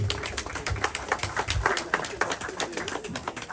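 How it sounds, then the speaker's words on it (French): Guests at a wedding ceremony clap after the vows. The claps are sparse and uneven, close and moderately loud, with faint voices underneath. "Applaudissez pour moi, s'il vous plaît."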